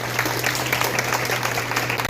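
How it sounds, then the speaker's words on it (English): An audience gives a round of applause at a women's leadership event held by a softball academy, a steady dense clapping over a low constant hum, with no talk throughout. "y'all give Miss Sands a round of applause"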